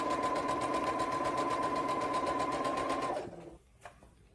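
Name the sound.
sewing machine stitching a toddler bag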